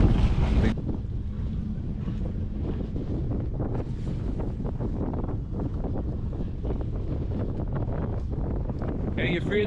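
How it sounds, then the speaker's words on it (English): Strong wind buffets the microphone at a harbour in Colombia, a loud, steady roar with gusts over low rumble, and a boat can be heard departing beneath it; people talk briefly in the background. "Our friend DJ, I say it's DJ, is leaving in this crazy weather, crazy wind"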